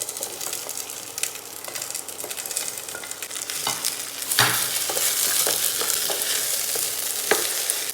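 Onions and mixed vegetables sauté in a restaurant kitchen pan with a steady loud sizzle, broken by the scrape and clatter of stirring now and then.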